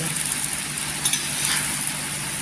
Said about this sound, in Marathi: आता कोथिंबीर टाकल्यानंतर पण हे परतून घ्यायचं तव्यावर